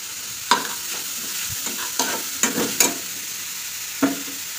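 Halwa fries slowly in ghee in a pan, giving a steady soft sizzle. A utensil stirs it in scattered scrapes and clicks, about six distinct strokes, close by with no talking.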